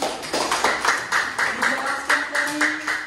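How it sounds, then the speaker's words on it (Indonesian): A class claps for a classmate after a presentation on cats, bursts of light handclapping in an uneven rhythm, fairly close, with faint voices underneath. "Ya, tepuk tangan untuk kawanmu."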